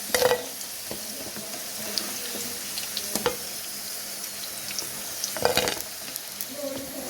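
Potato pieces frying in hot oil in a pan, a continuous crackling sizzle with occasional sharp scrapes and clinks of a stirring spoon.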